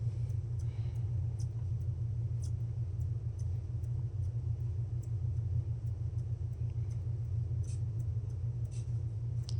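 A double-pulse constant-torque pulse motor runs on stored capacitor charge, giving a steady low hum with a faint rhythmic pulsing throughout, close and continuous, with a few light ticks above it.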